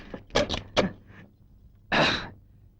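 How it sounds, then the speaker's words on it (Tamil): A door is shut and bolted with a quick series of wooden knocks and rattles, then a pause and a final louder thud or slide of the bolt, close by. "கதவை தாழ் போடு."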